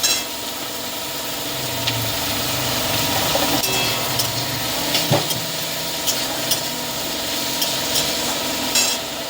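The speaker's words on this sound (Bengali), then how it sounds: "এবারে ভিজিয়ে ধুয়ে রাখা শুটকি মাছগুলো দিয়ে দেবো এর মধ্যে। দিয়ে ভালো করে নাড়বো।" Soaked, washed dried fish being stirred into a spicy chicken curry in a pan, a steady moderate sizzle with scattered scraping clicks from the stirring, close by, with a faint low rumble underneath and no talk.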